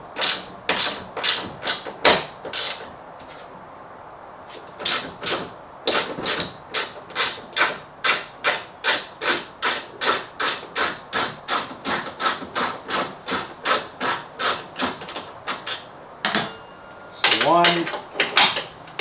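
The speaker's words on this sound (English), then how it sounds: "to remove the tail light, you will remove this top screw right here and this bottom one" A tool rattles and clicks in a fast, even series of sharp ratcheting strokes while a Toyota Tacoma tail light screw is backed out, with a few slower clicks at the start and at the end.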